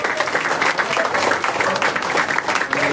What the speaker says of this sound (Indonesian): Teman-teman, tepuk tangan.